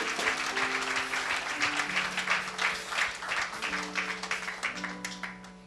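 A church congregation claps in steady applause for several seconds, the dense patter of many hands close by, with faint voices mixed underneath.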